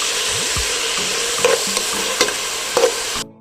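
Onions hitting hot vegetable oil mixed with meat fat for a Comorian white bean, meat and coconut milk sauce, giving a loud, steady sizzle with a few stirring clatters near the end, no talking.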